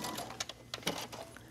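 A sewing machine stitches bias binding around the neckline of a kimono-style bathing suit coverup, giving a faint, short run of uneven mechanical clicks and whirring with no talking.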